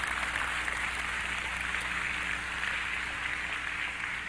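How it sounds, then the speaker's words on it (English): A church congregation claps their hands in a dense, steady wash of applause that holds at an even level throughout, with no clear talking over it. "Clap your hands and believe that promise."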